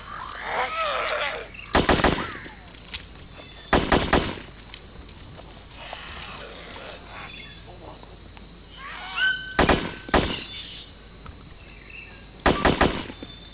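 Gunshots in DayZ ring out as sharp, loud reports, roughly four separate blasts spaced several seconds apart with a couple of doubled shots, over quiet jungle ambience with insect and frog sounds.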